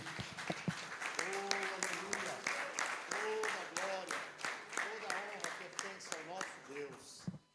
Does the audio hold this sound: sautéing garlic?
no